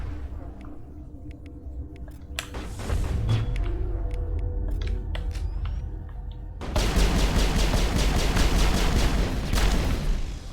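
Gunfire in Mass Effect, scattered single shots at first, then a heavy stretch of rapid automatic fire that runs steady and loud to the end.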